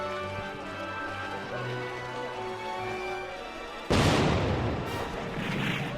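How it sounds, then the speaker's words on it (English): Gunfire in a War of the Worlds radio drama: after a quieter opening with low horse-like clopping, a sudden loud broadband burst of shots and rumbling fighting erupts midway and continues to the end. "Gunfire! The fighting has begun."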